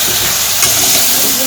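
Vegetables fry in a pan with turmeric and salt, giving a loud, steady sizzle and hiss close by, with brief stirring scrapes.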